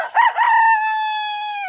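A single rooster crows up close, a clear, loud cock-a-doodle-doo rising then holding a long drawn-out final note, with no other sounds.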